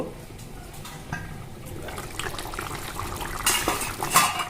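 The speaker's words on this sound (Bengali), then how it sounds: "এবার আমরা ঢাকনাটা তুলব" A metal lid clatters and scrapes as it is lifted off a pot of mutton curry with potatoes, a few light clinks building to a brighter metallic rattle near the end, close by.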